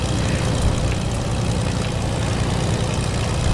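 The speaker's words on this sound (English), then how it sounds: "I love how my plane's just on autopilot" A propeller airplane engine in the Fortnite video game drones steadily and loudly throughout, a continuous low hum with no voices over it.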